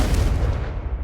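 A Confringo blasting spell detonates in Hogwarts Legacy, a single loud, booming burst that rolls out and decays over about a second.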